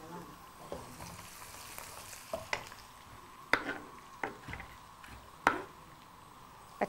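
Finely chopped mint goes into onions frying in a pan, giving a continuous soft sizzle broken by several sharp stirring clacks and scrapes.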